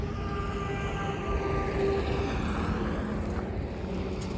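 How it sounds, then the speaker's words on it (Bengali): A train rumbles along at a distance, a steady low roar with faint metallic tones drifting over it, continuous throughout. "ট্রেনের আওয়াজ পাচ্ছি, ট্রেন লাইন আশেপাশে নিশ্চয়ই কোথাও আছে"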